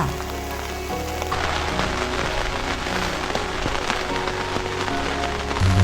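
Rain falls on a tent during an overnight stay near a dam, a steady dense patter of drops drumming on the fabric with no voices over it.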